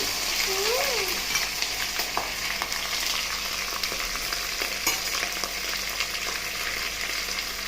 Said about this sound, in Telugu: తాలింపు ఎర్రగా వేగిపోయిందండి ఇప్పుడు ముందుగా తగ్గి పెట్టుకున్న బెండకాయ ముక్కల్ని వేసుకున్నాము